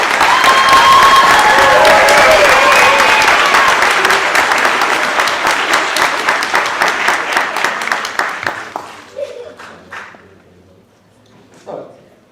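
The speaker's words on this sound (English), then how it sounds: "please give a round of applause to our graduates today" Loud, dense applause from the audience at a Latino youth high school graduation ceremony honoring graduates, with a few cheers, sustained for about eight seconds before thinning into scattered claps and falling quiet.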